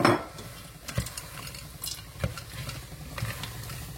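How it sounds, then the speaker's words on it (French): Spoon stirring frozen vegetables in a pan, close scraping and soft clinks with a few sharper knocks against the metal over a faint sizzle. "Je les mélange et puis je vais mettre de l'eau"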